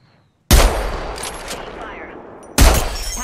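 Gunfire in the video game Apex Legends comes as two loud bursts of rapid shots, the first trailing into a sustained rattle before a second burst starts, close and sharp with no talk over it.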